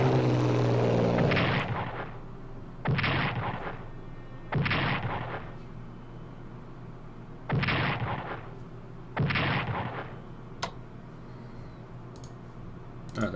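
Artillery and bomber strikes land in the Strategic Command WWII strategy game: a long opening rumble, then five heavy booming bursts spaced a few seconds apart, with faint clicks between them.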